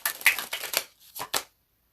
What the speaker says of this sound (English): Let me just shuffle the cards.